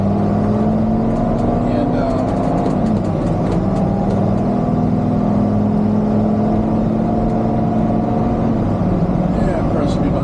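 Steady low engine drone and road rumble from inside an RV driving along the road, constant and close with a slowly shifting engine tone, while someone talks over it.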